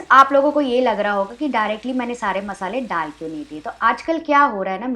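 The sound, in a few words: masala sizzling in oil and water while cooking mushroom masala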